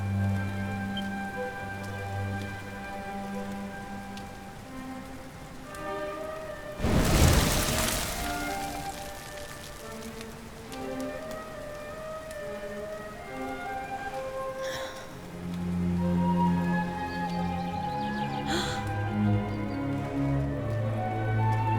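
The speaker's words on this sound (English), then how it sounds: "Looks like the rain's dying down." Rain patters steadily through a scene in the video game Dragon Quest 11, with soft musical tones underneath and a brief louder whoosh partway in.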